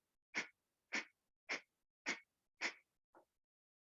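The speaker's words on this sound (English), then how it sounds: "So we're going to practice breath of fire, a Kapalabhati breath." Kapalabhati yoga breathing, or breath of fire, heard as a steady series of short, sharp nasal exhales about half a second apart. Five even puffs are followed by a softer one, close but quiet, with no talking.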